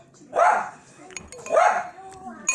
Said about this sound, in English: Oh my God, Tippy's barking